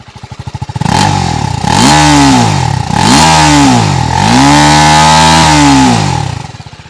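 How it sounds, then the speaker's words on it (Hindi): A TVS Apache RTR 310 motorcycle exhaust, close and loud, going from idle into several sharp revs that rise and fall in repeated swells before dropping away. "तो आइडलिंग कंडीशन में इस तरीके का आपको एग्जॉस्ट नोट मिलता है। और चलिए थोड़ा सा रेव करते हैं।"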